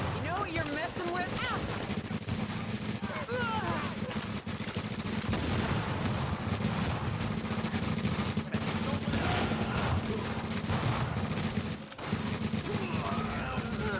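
Sustained gunfire rattles without pause as shots are traded from behind cover in The Division, dense bursts of automatic fire layered over a constant low rumble, with a voice talking underneath.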